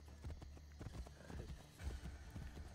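Rapid hoofbeats pound in a galloping rhythm, close and fairly quiet, with a faint background hum; a horse in the video game Assassin's Creed: Brotherhood.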